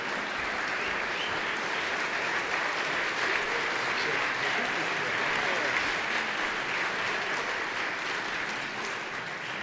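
An audience at a town hall forum applauds after a band's performance, with dense sustained clapping that holds steady and loud throughout.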